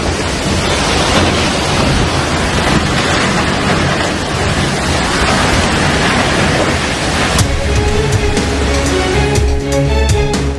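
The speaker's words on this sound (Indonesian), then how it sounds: "hujan deras disertai angin kencang menerjang permukiman warga di Tanah Toraja, Sulawesi Selatan" Heavy rain and strong wind lash a residential area in Tana Toraja, South Sulawesi, a dense, loud, unbroken roar of downpour and gusts that continues throughout with a sharper crackle near the end.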